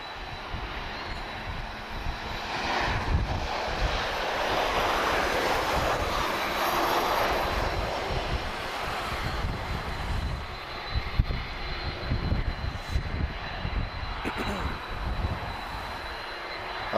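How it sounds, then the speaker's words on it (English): A Star Air jet airliner taxis onto the runway at Lisbon Airport, its engines a broad rumbling roar that swells and holds in the distance, with a voice speaking briefly over it. "our Star Air is taxiing onto the runway"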